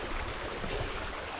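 A faint, steady rush of water from a little stream running through a forest gully, with no other sounds standing out.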